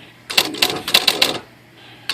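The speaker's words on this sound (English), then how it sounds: "I'm going to type in another phrase right there" Keys strike on a Smith Corona H Series electronic typewriter in a quick burst of about eight sharp, close clacks, a brief pause, then one more strike.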